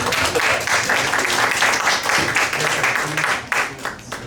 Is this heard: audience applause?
yes